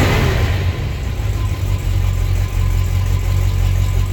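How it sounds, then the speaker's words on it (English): A 1955 Hudson Rambler engine runs steadily on choke at a fast idle with a low, slightly loping rumble, close and continuous, with no one talking. "You can hear a little bit of loping on the engine."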